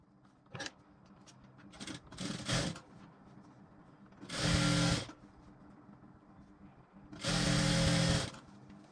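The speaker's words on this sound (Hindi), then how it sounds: "सिलते जाइए बस, उसमें बहुत रफ्तार से चलती है मशीन" A sewing machine stitches a blouse in two fast bursts of a few seconds each, the steady whirring run up close. Quieter rustling and handling of fabric come in between the bursts, and no one speaks.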